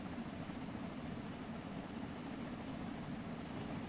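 Steam locomotive in the Train Sim World 2 video game with its driving wheels spinning at about 65 mph, a steady, loud, dense rumbling roar of wheels and rails that holds unchanged throughout with no talking.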